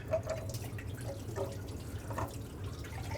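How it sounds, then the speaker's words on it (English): Engine coolant from a 2001-07 Toyota Sequoia thermostat housing dripping in scattered, irregular drops, faint and close over a low steady hum, with no speech. "More coolant will come out when you pull the thermostat out"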